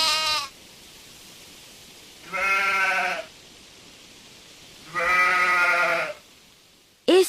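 A sheep bleats loudly three times in a slow, evenly spaced rhythm, each cry long and nasal, with a fourth bleat starting at the end, used as a sound effect in a reading of The Little Prince.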